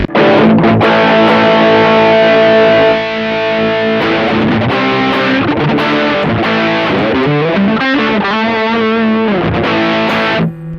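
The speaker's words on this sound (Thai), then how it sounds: "เดี๋ยวผมจะเอาเสียงแตกมาลองต่อพ่วงดูนะครับ" Heavily distorted electric guitar through a distortion pedal into a Tech21 SansAmp TRI-A.C. amp simulator, playing sustained chords and melodic lines, loud and close, with no talking.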